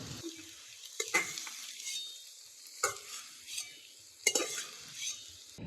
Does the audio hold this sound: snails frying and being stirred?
yes